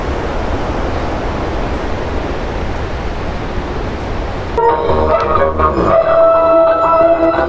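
Yamuna river water rushing below the mountain road to Yamunotri, a loud, steady broadband roar that changes abruptly partway through as brighter tonal sounds rise over the continuing rush.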